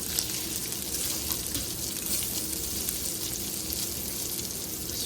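Sausage sizzles and fries steadily in a pan, a continuous crackling hiss close by with faint stirring and no voices.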